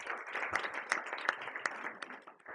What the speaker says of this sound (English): you're clapping to our silicon overlords in the future